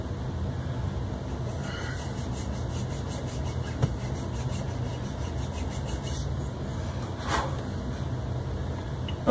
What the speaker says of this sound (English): now, this groove doesn't have to be super deep or anything. This file's not working real great.